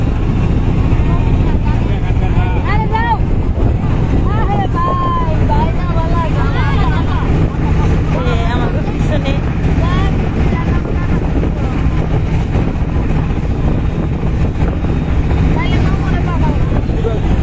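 A trawler boat's engine on the Turag river drones loud and steady throughout, with people talking over it the whole time.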